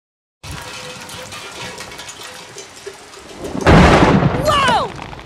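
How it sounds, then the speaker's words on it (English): Heavy rain falls steadily in an animated Toy Story 4 scene, then a loud, close crack and roll of thunder breaks in, followed by swooping sounds. "It's raining cats and dogs out there."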